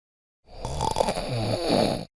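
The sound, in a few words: person snoring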